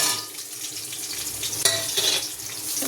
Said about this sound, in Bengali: তো তেলটা গরম হয়ে গেছে, এবার একে একে মশলাগুলো এখানে দিয়ে দেবো।